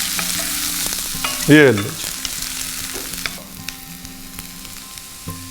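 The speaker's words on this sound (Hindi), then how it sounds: "30 सेकंड्स के लिए हॉट ऑयल में स्टर करना है बस" Ginger and nigella seeds are stirred in hot oil for chutney, giving a loud close sizzle with spoon scrapes that settles into a quieter, steady frying hiss. One brief spoken word is heard.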